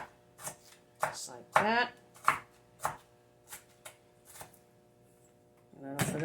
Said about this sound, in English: I'm making nice little diced up onion here to put in the soup